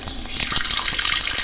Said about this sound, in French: Oh, un bain plutôt, je vais remplir la baignoire.